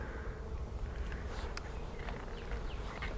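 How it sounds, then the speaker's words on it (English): Honey bees buzz in an open hive during a beekeeping hive split, a soft steady hum of many insects close by, with a few sharper passes of single bees. "The bees up here are chilled out, which is what I want to see."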